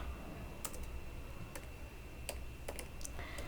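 Keyboard keys clicking as SQL code is typed, a handful of separate taps and short bursts spread over a few seconds, faint and close against a steady low hum.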